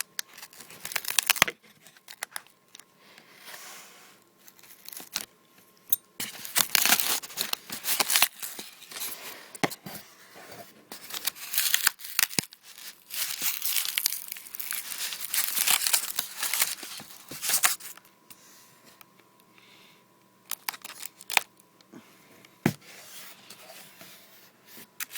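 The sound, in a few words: tape being pulled off lightsaber toy packaging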